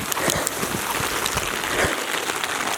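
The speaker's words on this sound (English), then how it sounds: "There's the rain." Steady rain patters on outdoor surfaces beside a backyard bait pond, with a dense, continuous hiss and scattered sharper drops that are close and fairly loud.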